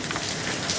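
Heavy rain pours down steadily in Chennai, a dense, close hiss of drops hitting surfaces with no voices.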